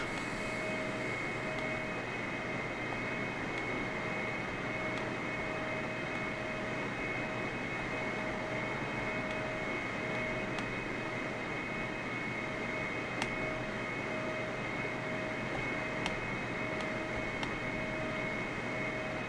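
A steady, unbroken roar from a Boeing 747's jet engines in Microsoft Flight Simulator, with a constant hum and a high whine held throughout the cruise.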